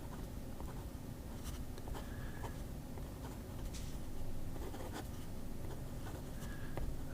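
A pen scratches across a slippery writing pad with a soft continuous rasp and occasional faint ticks, low and steady under a noisy background hum.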